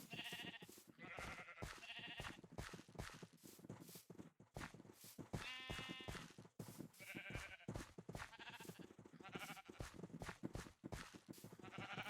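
Minecraft sheep bleat repeatedly in quick succession, mixed with light clip-clop footsteps from the flock. The sound is faint and has no speech.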